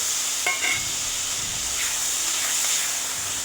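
Tomatoes frying in hot oil for a Bhogi vegetable dish, a steady soft sizzle and hiss with a few small stirring clinks near the start, close and even throughout.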